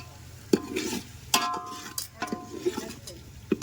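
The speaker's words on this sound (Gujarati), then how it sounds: "આ રીતે હલાવતું જવાનું" Rasiya bhat, a rice dish with red chutney, being stirred in a pot with repeated scraping and clinking strokes of a spoon against the metal, close and fairly loud.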